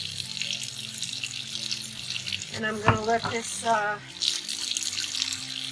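Hot water running from a tap into a basin to soak raw fiber with dish soap, a steady broadband rush throughout the clip, with a person talking briefly over it near the middle.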